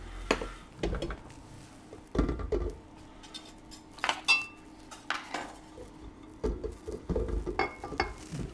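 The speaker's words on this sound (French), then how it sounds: "le crumble, la feuilletine et le praliné et la pâte de noisette et on mélange" Crumble, feuilletine, praliné and hazelnut paste mixed together in a bowl for a chef's Easter entremets, with irregular clinks and scrapes of a utensil against the bowl coming in short bursts, close and fairly quiet.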